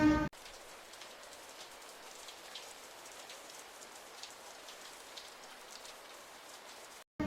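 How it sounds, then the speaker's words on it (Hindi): Light rain falls steadily in Dehradun, a soft even patter of drops with a few slightly louder taps, cut off abruptly near the end. "तो बारिश का मौसम है ये, हल्का हल्का सा"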